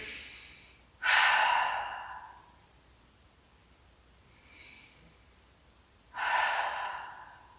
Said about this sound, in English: I'm going to do 2 more big breaths here.